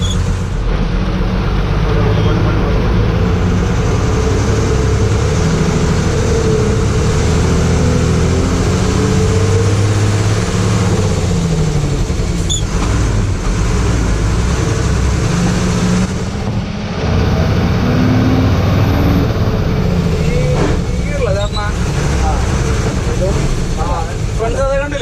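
A Leyland 12-wheel 3118 truck drives along, its diesel engine droning loud and steady beneath continuous road and cab noise, with a voice talking over it throughout.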